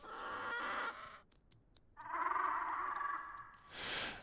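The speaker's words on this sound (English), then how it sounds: "Oh, chicken." A chicken in the dinosaur survival game The Isle Evrima clucks in short, close bursts with brief pauses between them. No one talks over it.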